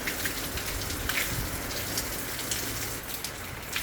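Heavy rain pours down during a flood, a dense, steady hiss of water drumming on surfaces that holds at near-constant loudness throughout with no voices.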